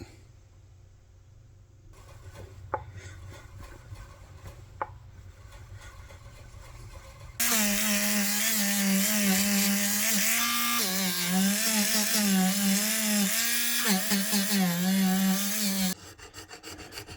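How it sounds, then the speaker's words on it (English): A Dremel rotary tool polishing factory tool marks off Fender Squier Bass VI bridge parts starts after a quiet stretch, giving a loud, close, steady high motor whine that wavers in pitch as it presses on the metal, then cuts off. "I might run the Dremel, polish these up a bit more"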